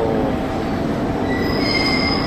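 Trains run through a station in Saga, Japan, with a loud, steady rumble of rolling rail cars and high, thin wheel squeals rising partway through, close by and continuous.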